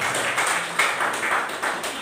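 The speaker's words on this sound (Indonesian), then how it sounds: "tepuk tangan buat Tuhan" A church congregation at a Good Friday service clapping together, a dense, steady wash of applause with rhythmic pulses, fairly loud and close, carrying on for a couple of seconds.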